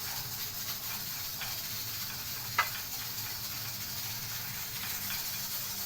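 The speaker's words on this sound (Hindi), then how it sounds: "इनको हम करेंगे फ्राई।" Finely chopped onions fry in oil with a steady, even sizzling hiss that holds throughout, with no talking.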